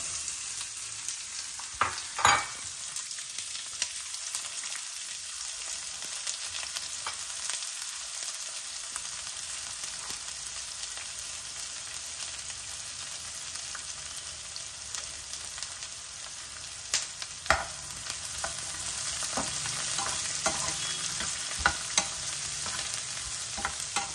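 Peanuts and onions fry in a pan for upma, a steady broadband sizzle running throughout with occasional stirring scrapes and clinks, no talking.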